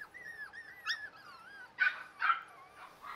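Miniature fox terrier puppies whine in high wavering whimpers, then let out a few sharp little yips and barks, close and fairly quiet, with no one talking.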